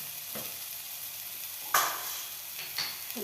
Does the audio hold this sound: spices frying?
yes